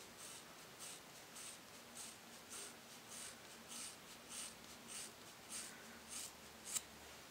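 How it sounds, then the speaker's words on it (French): Sharp hairdressing scissors cutting wet hair, heard as a faint, close, evenly paced run of about a dozen soft snips over a quiet background. "Ça fait très peu de bruit parce que le ciseau il coupe vraiment hyper bien."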